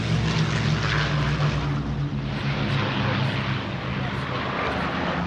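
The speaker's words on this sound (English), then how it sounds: "Here comes the Lancaster." Avro Lancaster bomber flying overhead, its piston engines and propellers giving a loud, deep, continuous drone with a pulsing throb that swells and holds throughout, while people talk in the background.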